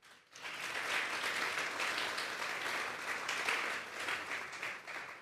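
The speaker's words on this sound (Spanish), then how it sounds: "Den un fuerte aplauso pues al Señor." Congregation applauding during a Sunday church service, a dense, even wash of clapping that rises quickly after a brief quiet start and holds steady, fairly distant and soft.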